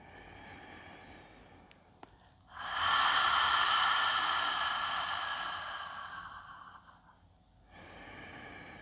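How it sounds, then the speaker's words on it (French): Guided yoga nidra breathing: a strong, long breath sweeps through for several seconds, with softer airy breathing before and after it, close and alone without talk. "Inspirez par le nez, expirez par la bouche"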